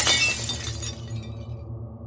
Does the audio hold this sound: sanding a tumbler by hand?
no